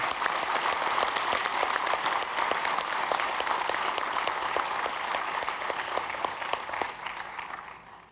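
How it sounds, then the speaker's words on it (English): A large audience applauds steadily at a sheriff's department awards ceremony, honoring the civilian employee of the year, with dense, sustained clapping that holds at full strength before easing slightly near the end. "Please give a huge applause to Ms. Tyra White, our Civilian Employee of the Year."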